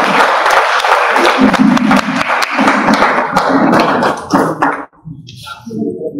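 An audience at a calendar release ceremony claps loudly and close by, uneven bursts and sharp slaps over about four seconds before fading into scattered claps and faint murmuring.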